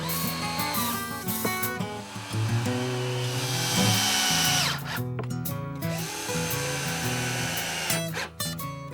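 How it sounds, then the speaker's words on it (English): A power drill drives screws to fix the bottom of a wooden pull-out shelf, with a steady close whine that rises and falls in pitch through several runs and brief pauses between screws. "set the bottom in place, and secure it with screws."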